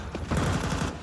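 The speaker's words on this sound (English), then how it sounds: "Big spread of bullets from the FAMAS of Bit" Rapid FAMAS automatic fire in a Counter-Strike match, a dense burst of repeated shots running through most of the second, loud and close with no voices.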